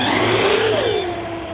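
A Team Corally Punisher 6S RC monster truck, stock, accelerating well short of full throttle: a continuous high electric whine that rises and falls in pitch, loud and close, with no talk.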